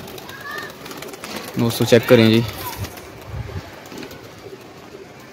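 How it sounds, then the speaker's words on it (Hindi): Pigeons coo on a rooftop, a short burst of throaty, rolling coos close by amid faint outdoor ambience, while someone speaks briefly. "ये रहे जी प्रवासी कबूतर"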